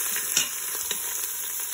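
Oxtail browns in an Instant Pot with a steady close sizzle and crackle of frying, broken by a few soft stirring knocks, with no talking.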